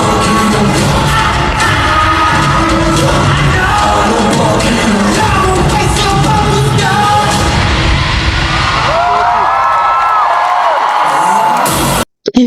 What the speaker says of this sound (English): You hear it in the cheers